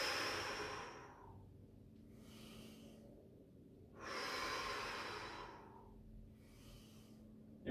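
During a breathing exercise a person breathes deeply and slowly in and out, each long hissing breath close and audible, two full cycles repeating steadily with no talk.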